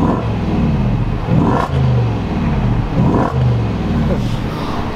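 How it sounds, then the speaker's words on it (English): A 2022 Range Rover Sport Autobiography V8 engine revs repeatedly, each throaty rise and fall close and loud, settling into a raspy idle between blips. "let me rev the engine a little bit"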